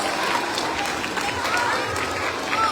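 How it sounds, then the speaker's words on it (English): A school Friday assembly audience breaks into a steady round of applause, many hands clapping in a continuous wash that carries loud and unbroken across the hall, with faint voices mixed in. "let's give them another round of applause"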